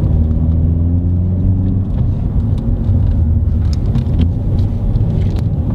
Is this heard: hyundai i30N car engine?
yes